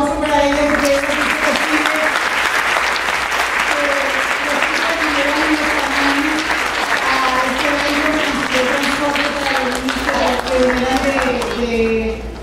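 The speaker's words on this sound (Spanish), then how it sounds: "Un aplauso para ella." Sustained, loud audience applause fills a hall at an international gathering of people with Down syndrome, with a voice talking and musical tones running over the clapping throughout.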